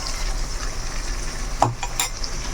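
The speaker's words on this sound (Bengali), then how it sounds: "নেড়ে চেড়ে নেব" Egg curry with mustard paste, chili powder and turmeric being stirred in a pan, giving a steady low sizzle with a couple of brief scraping clinks of a utensil against the pot.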